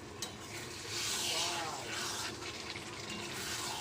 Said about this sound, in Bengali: একটু আমি হালকা করে নেড়ে চেড়ে দেবো কেন বেশি নাড়লে লোটে মাছ ঘুটে যাবে